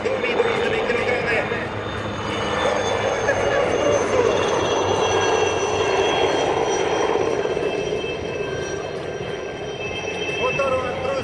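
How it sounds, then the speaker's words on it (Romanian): A 570-horsepower aircraft engine drones steadily at an air show, a broad continuous roar with faint tonal whine, heard at a distance under a commentator's voice throughout. "Motorul a tras de 570 de cai putere, motor de ajuns de mare pentru această aeronavă."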